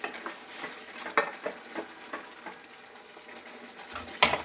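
Pallakura mutton curry simmering in a pan after coriander goes in, a soft continuous sizzle broken by scraping stirs and light clinks of a spoon, with a sharper clatter near the end.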